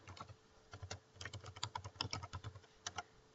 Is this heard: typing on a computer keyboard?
yes